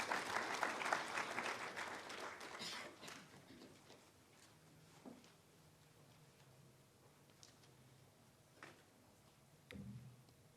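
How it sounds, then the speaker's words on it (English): An audience at a Namibian solidarity gathering for Cuba gives a round of applause, dense clapping at the start that thins to scattered claps and then quiet with a few small knocks. "Please, let's give him a round of applause."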